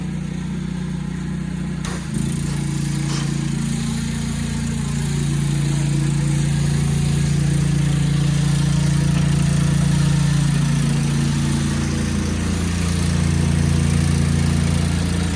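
Pressure washer running with a fan tip in a pressure washing job: a steady, loud engine-driven drone with a low mechanical hum, continuous throughout after a brief shift near the start, no talking.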